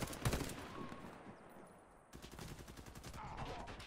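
Bursts of automatic gunfire crack in the online shooter Warface on Nintendo Switch, a loud rapid volley at the start, a short lull, then sustained firing resuming, with a player's voice faintly under it.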